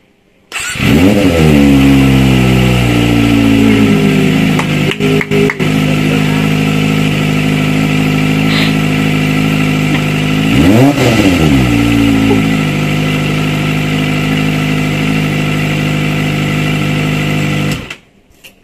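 A Kawasaki Ninja ZX25R sport motorcycle engine fires up and idles with a steady rasp, gets one sharp rev in the middle, then shuts off.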